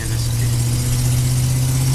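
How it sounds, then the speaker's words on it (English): An old Ford truck engine with a slight exhaust leak runs steadily at idle or low speed, a constant deep rumble with a low drone throughout. "It's got that little bit of exhaust leak. I mean, it kind of has your typical old Ford truck sound."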